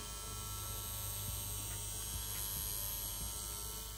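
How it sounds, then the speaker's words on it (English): A tattoo machine fitted with a T&T needle cartridge runs steadily, giving a smooth, even electric buzz with a constant hum and no breaks. "So here is the needle up close in its entirety running. Very smooth and consistent."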